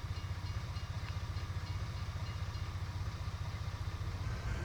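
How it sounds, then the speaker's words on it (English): A passing train in the farming video game Farming Simulator 19 gives a steady, rhythmic rumble with regular low thumps, loud and continuous with no talk. "So while we're here waiting for the train"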